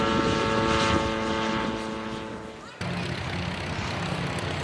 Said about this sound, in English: This autogyro is powered by a Wallace McCulloch